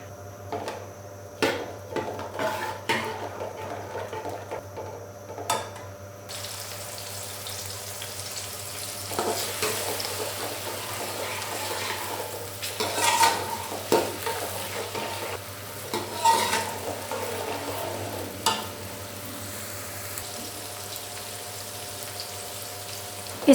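Onions fry in hot oil over a medium-high flame for sarson ka saag, a steady soft sizzle broken by clinks and stirring scrapes at the start and scattered louder stirring bursts throughout.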